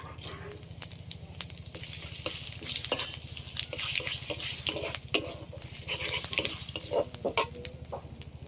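Dried chilli, bay leaves and cumin sizzle in hot oil with a continuous crackling hiss and frequent sharp spits and pops, close and fairly steady throughout.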